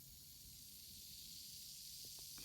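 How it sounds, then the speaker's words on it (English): A drop of acid fizzes on calcite with a continuous faint hiss that swells slightly, close up and alone. "It's fizzing away. It's dissolving the calcite."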